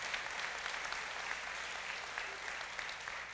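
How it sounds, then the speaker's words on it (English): A crowd at the Choctaw Nation State of the Nation gathering gives a steady round of applause, dense hand-clapping heard from a distance, continuous and even throughout. "If y'all would give her a big round of applause."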